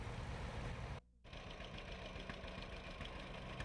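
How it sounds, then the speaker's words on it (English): A 1939 John Deere Model H tractor engine idles steadily with a low, even mechanical drone, briefly cutting out for a moment before resuming its continuous running. "a 1939 John Deere Model H with a custom saw and winch powered by the belt pulley"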